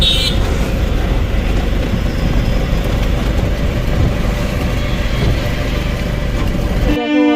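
Riding inside an auto rickshaw on the way to Belgharia, the engine drone and road rumble hold steady and fairly loud throughout, with no talk, ending in a brief change of noise at the close.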